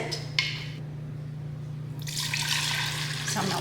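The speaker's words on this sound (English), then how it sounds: "I just stir it around," Chopped vegetables for tortilla soup slosh and swish in a pot as they are stirred, in a couple of soft wet bursts over a low background hum.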